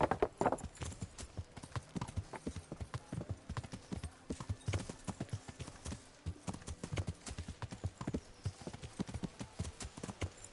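Rhythmic hoofbeats clop steadily and quickly, a horse trotting at a regular pace in Kingdom Come: Deliverance, the clip-clop sharp and clear throughout.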